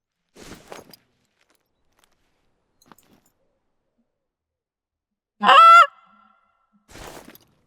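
Geese in the hunting video game theHunter: Call of the Wild give one loud, close honk amid near silence, with a few soft footstep-like rustles before and after.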